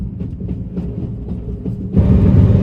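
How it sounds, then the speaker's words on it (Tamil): Inside the Tashkent to Samarkand bullet train at high speed, a steady low rumble and rolling clatter of the carriage, rising to a louder, fuller roar near the end, with no talk. "first time bullet train experience"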